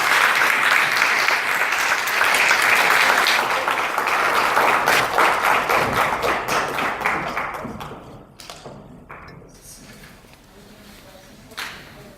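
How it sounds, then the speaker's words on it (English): A crowd applauds council candidates and audience members at a college candidates forum, loud dense clapping for about eight seconds that thins into scattered claps and fades, with a final isolated clap near the end. "Let's give everybody a big applause"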